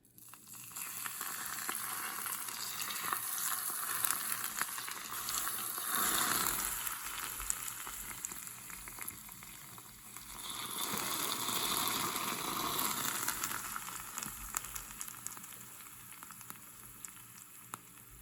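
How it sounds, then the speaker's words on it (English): Hot oil poured over Szechuan numb and spicy eel pout fish, a loud crackling sizzle that swells twice in long bursts over a steady background hiss, heard alone without talk. "We've got some hot oil here and we're gonna pour it over."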